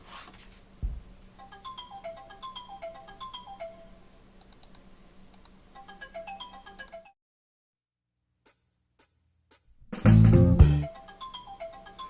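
A mobile phone ringtone plays as a repeating melodic tune for about seven seconds, then stops. A few faint clicks follow, and a loud, brief burst of handling noise comes near the end.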